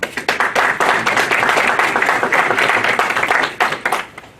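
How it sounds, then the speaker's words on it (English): Audience at an anniversary ceremony of a dialogue centre applauds a welcomed guest: dense, steady clapping from many hands close by, lasting throughout and thinning slightly toward the end. "So please make him feel welcome with a round of applause"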